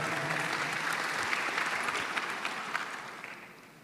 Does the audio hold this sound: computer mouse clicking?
no